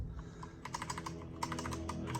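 Dell Alienware 410K mechanical keyboard with Cherry MX switches being typed on: a quick run of crisp, close key clicks, irregular and clustered, with a brief pause before a second burst.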